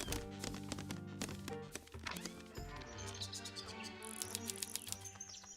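Game-world aviary ambience in Tangle Tower, with birdsong and chirps over a steady layered musical backdrop, occasional thunks and bright high twitters building toward the end.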